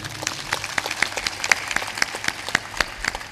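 An audience claps during a religious discourse in Amarpur, Punjab, with sharp, fairly sparse claps sounding near and loud in a steady rhythm and no talk over them.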